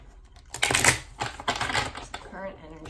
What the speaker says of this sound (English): I'm just going to shuffle a little bit here.